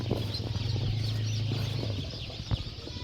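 Local ducklings being packed for delivery chirp and peep in a busy, continuous chorus, with occasional rustles and bumps of handling.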